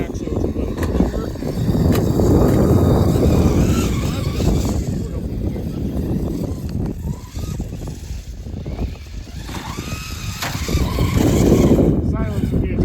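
A Traxxas Slash 4x4 VXL radio-controlled car drives through snow with a rough, fluctuating motor whir and gritty scrabbling that surges and fades as it races along.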